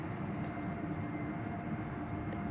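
A radio-controlled Airbus A3-series model airplane flies in to land, its engine droning as a steady, fairly faint rumbling whine with a low tonal hum, constant throughout and without speech.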